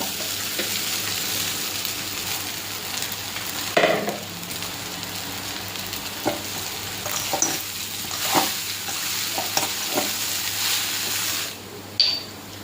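Washed poha tipped into a pan already holding turmeric and oil sizzles steadily while being stirred, with occasional sharp utensil scrapes and clinks against the pan over the continuous frying hiss.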